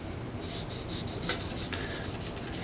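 A satin-finish guitar bridge is hand-sanded with 2000 grit sandpaper, making quiet, close, rhythmic rasping strokes that repeat evenly throughout.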